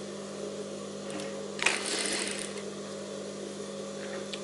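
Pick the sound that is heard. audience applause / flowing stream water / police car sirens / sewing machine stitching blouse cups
sewing machine stitching blouse cups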